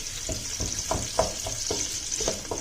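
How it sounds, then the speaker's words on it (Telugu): Green chillies and sliced onions fry in oil for veg dum biryani, with steady close sizzling and a series of stirring scrapes and clinks at an uneven rhythm. "పచ్చిమిర్చి వేసుకొని మంచిగా ఫ్రై చేసుకోవాలి లైట్ బ్రౌన్ వచ్చేంత వరకు"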